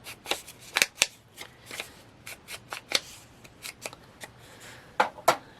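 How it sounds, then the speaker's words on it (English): Paper edges are distressed for a craft project, producing a series of short dry scraping and snipping strokes in an irregular rhythm, close and fairly quiet, with no voices. "first let's do a little distressing on the edge just to make it more"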